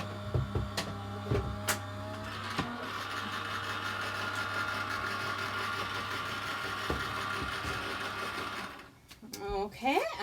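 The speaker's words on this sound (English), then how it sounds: "That's running through my die cutting machine there now." A Gemini Junior die cutting machine feeding a card panel through, giving a steady motorised whir with a low hum and a few clicks, then a pause and rattling handling noises at the end.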